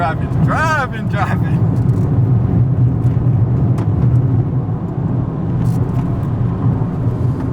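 An Abarth 595 hatchback drives along country roads, a steady loud engine and road drone from inside the cabin with a brief whistling whine early on, while people talk over it.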